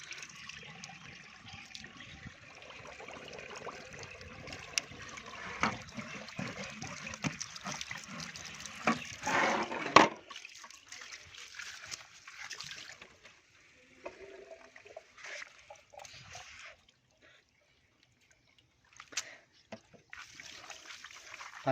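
Water runs and splashes while a Suzuki Bolan radiator is rinsed and its fins are washed out, a faint, uneven hiss with one louder gush near the middle before trailing into quiet drips.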